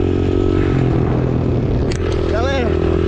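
Mini motorcycle on a dirt trail drones loudly and close, its engine steady with gear-shifting pitch changes, scraping rattles, and a brief voice near the end.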